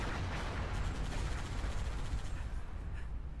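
Dense, continuous booming from anti-aircraft guns in the video game Halo Reach, a rolling wash of muffled gunfire and blasts with no pauses, moderately loud and with no voices.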